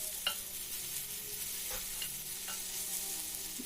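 Chilies frying in a pan for a vegetable side dish give off a steady, moderate sizzle with a few sharp clicks and scrapes, and no one speaks.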